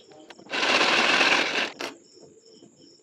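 Sewing machine running a pressed edge stitch along the lining of a princess-cut blouse, one steady burst of rapid mechanical clatter lasting about a second, close and fairly loud, followed by a brief click and quiet.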